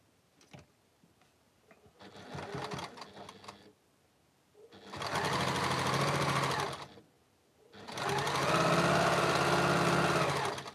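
Two sustained bursts of machine stitching come from a sewing machine joining a quilt sashing strip, after quieter handling and fabric noise at the start.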